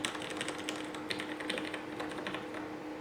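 Close, steady typing on a Ducky Zero 2087S mechanical keyboard with Cherry MX Red switches lubed with Krytox 205G0, a fast stream of soft clacky keystrokes with no talking.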